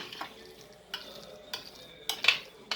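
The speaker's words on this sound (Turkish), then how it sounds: "Şimdi güzelce karıştıralım." A spoon stirs a cold yogurt and pasta meze mixture in a bowl, a few separate scraping and clinking strokes at uneven intervals, close and fairly quiet, with no voices.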